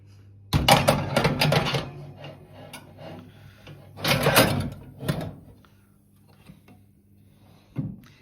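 A home oven door swings open for a tray of kofta fingers set on a bed of potato, onion and pepper, giving clattering metal scrapes and knocks close by, then a softer thud and a final clunk.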